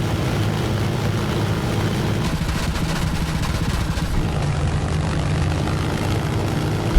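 A Mitsubishi A6M5 Zero's radial piston engine drones with a continuous low, rough propeller roar that stays loud and even from start to finish, and no one talks.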